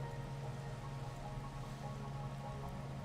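Steady rain falls in a modded Minecraft world running Minecolonies, a constant soft hiss of drops with a low droning hum beneath, even and continuous throughout with no talking.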